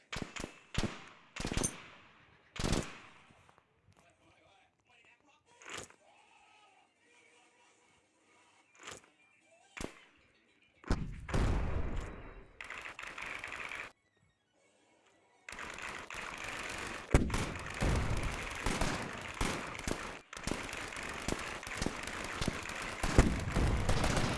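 Video game gunfire with rapid bursts and single shots, loud and dense in the second half after quieter sporadic bangs early on, with a short silent gap midway.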